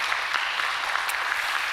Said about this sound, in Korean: 1년 동안 수고하셨으니까 박수 쳐도 되는가?